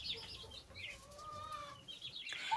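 Broody hens and turkeys in a coop give soft, murmuring clucks and chirps at moderate distance, a steady low chorus of fowl sounds through the whole stretch with no one talking.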